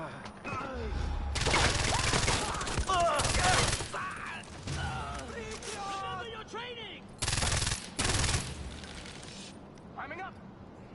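Gunfire in the Far Cry 4 video game: several loud bursts of rapid automatic shots, separated by quieter gaps, with someone talking and shouting between and over the shooting.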